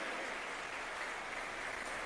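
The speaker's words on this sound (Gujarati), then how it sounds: "તાળી વગાડો" An audience at a yoga discourse during a Guru Purnima festival in Vashi, Mumbai, claps in a continuous, fairly faint wash of applause, with a steady, even texture and no speech over it.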